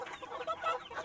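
Chickens cluck in a short, close burst of overlapping calls, steady and moderately loud with no voices over them.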